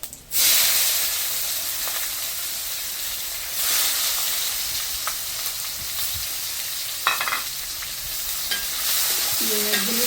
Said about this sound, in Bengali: এখন তেলটা ভাজা হয়ে গেছে, এখন দিয়ে দেব পেঁয়াজ টুকরো।